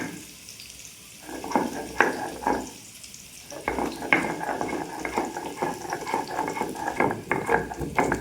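Dried red chillies crackle and sizzle in hot oil in a pan, with irregular sharp pops over a steady frying hiss that fades briefly before picking up again.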